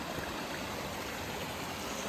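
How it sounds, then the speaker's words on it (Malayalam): A distant waterfall on a muddy forest trail gives a faint, steady broadband rush, constant and even throughout with no voices. "അവിടെ ആയിട്ടൊരു വെള്ളച്ചാട്ടത്തിന്റെ ഒച്ച കേൾക്കുന്നുണ്ട്"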